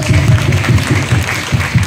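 Students at a high school event clap together at close range, a dense, fairly loud patter of applause with faint voices mixed in over about two seconds.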